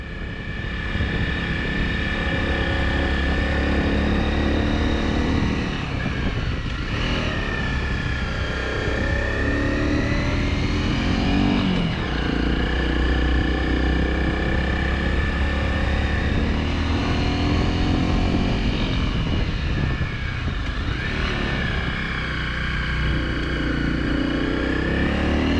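An adventure motorcycle engine drones loud and close while climbing a steep, winding mountain road, its pitch rising and falling with throttle changes through repeated curves.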